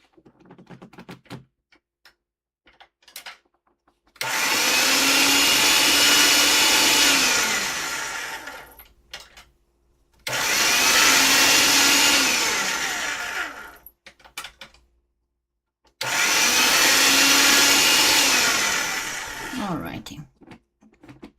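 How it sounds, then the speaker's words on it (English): A pasta machine rolling polymer clay thinner and thinner for a beach pendant, heard as three long whirring, grinding passes of a few seconds each, loud and close, separated by short pauses with small clicks. "we can go with it through the pasta machine"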